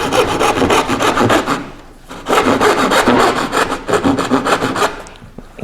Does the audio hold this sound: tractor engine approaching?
no